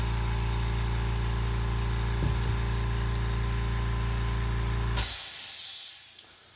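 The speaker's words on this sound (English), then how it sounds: "I bought a new compressor." An airbrush air compressor runs under a desk with a steady, loud hum and hiss, then shuts off abruptly near the end, leaving a fading tail into near silence.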